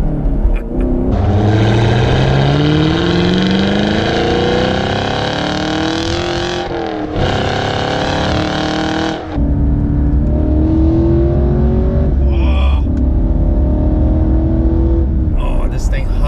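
A 2017/2018 Chevrolet Camaro SS 1LE V8 revs loudly while driving, rising through the gears with a deep roar, a brief drop at each shift, and steady engine drone continuing under occasional talk.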